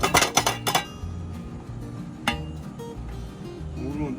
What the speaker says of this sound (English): We're just going to strain her down. Make sure you get all that grease out of it.